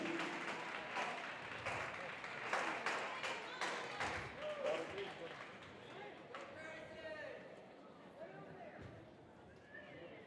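A high school gymnasium crowd at a basketball game claps and cheers loudly and steadily throughout, with scattered voices and shouts mixed into the roomy din.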